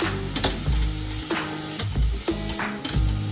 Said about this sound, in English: These herbs, once you saute with little bit of olive oil, that will give a very good flavor.